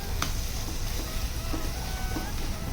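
Semolina (rava) sizzles steadily while being roasted and stirred in a pan for sweet sheera, a constant crackling fry with faint occasional scrapes and no talking.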